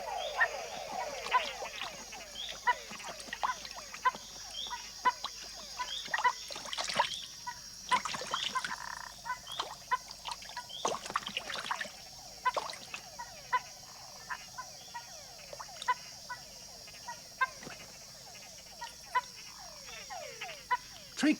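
Frogs calling at a pond at night during courtship, a dense chorus of repeated rising chirps and croaks from many animals, some near and loud, others fainter, overlapping in irregular bursts.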